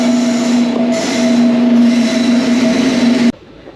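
A train arrives at Aler station, its steady mechanical hum and high whine loud and close for several seconds before cutting off abruptly.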